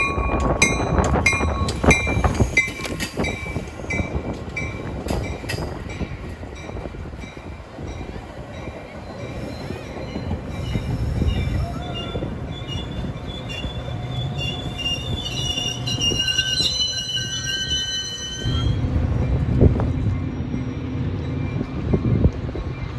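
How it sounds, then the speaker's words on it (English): Metra commuter train 2714 on the Milwaukee District West line, hauled by an F40PH locomotive, pulls into a suburban station with loud, sustained wheel squeal and rumbling rail noise that swells and shifts over the whole stretch, no voices. "Here's train 2714 on the Milwaukee District West, coming in for its second to last station stop."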